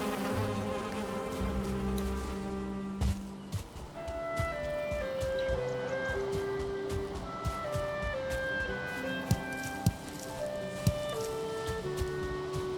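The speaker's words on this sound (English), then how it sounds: "Oh, okay, we've got some more bees here." Bees in the Valheim video game buzz in a steady, droning hum that runs throughout alongside soft melodic game music, with occasional small clicks and no speech.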